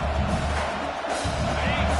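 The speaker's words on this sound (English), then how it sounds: "This crowd trying to make life miserable for this offense." Steady, dense roar of a football stadium crowd during a college playoff game, loud and continuous throughout with a low rumble and broadband hiss, no distinct voices standing out.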